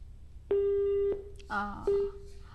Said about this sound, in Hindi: ऐसे हमारी फोन लाइन जो है वो डिस्कनेक्ट हो गई